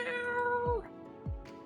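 A cat in the story game Choices: Stories You Play, Foreign Affairs chapter, gives two clear, close meows in a row with nobody talking.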